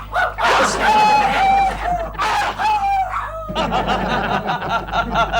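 A dog in a household sitcom scene barks and yelps in loud, whining bursts, close by and overlapping with voices talking.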